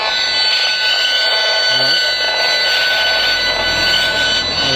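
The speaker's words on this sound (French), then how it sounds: "Alors là, vous allez écouter le bruit que l'antenne fait, hein, ce sont les micro-ondes." A loud, continuous electronic buzzing and hissing from an RF meter rendering microwave signals from a cell phone antenna in Metz, France, fills the whole stretch, harsh and steady with faint pulsing texture.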